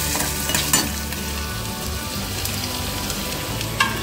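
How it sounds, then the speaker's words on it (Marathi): Fenugreek leaves (methi bhaji) fry in a pan with a steady, close sizzle, broken by a few sharp clinks of stirring, and no voices over it. "एकीकडे आपली मेथीची भाजी करून घेते पटकन"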